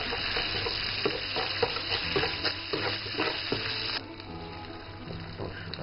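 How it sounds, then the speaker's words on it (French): Beef frying in a wok with rapeseed oil, Sichuan pepper and dried chilies, crackling in a loud steady sizzle with scraping stir strokes; the sizzle drops noticeably quieter partway through. "fait revenir la viande de bœuf. Il y a de l'huile de colza, du poivre du Sichuan et des piments secs là-dedans."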